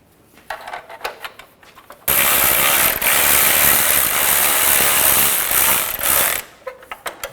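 Ratchet tightening exhaust manifold bolts on a 2007-2013 Mini Cooper, a loud close run of rapid clicks lasting several seconds, framed by a few softer clinks before and after, with no talking.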